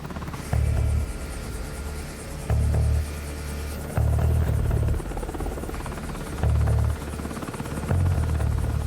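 Military helicopter engines run at a steady rumbling drone with a rhythmic low beating of the rotors, loud and close, accompanied by background din from an assault force boarding.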